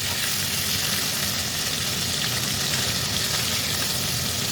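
Fish fries in a pan with a loud, dense, unbroken sizzle and hiss, close and steady throughout without pauses or talk.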